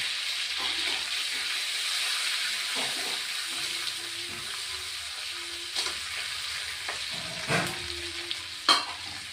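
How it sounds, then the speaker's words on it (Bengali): Whole tempering spices sizzling in hot oil in a pan for an egg curry, a continuous bright hiss with a few light clinks and taps from a spoon, ending on sharper clatters. "ফোড়নটা দিয়ে দিলাম তেলের মধ্যে দিয়ে দিলাম আঁচ এবার কমিয়ে দিলাম"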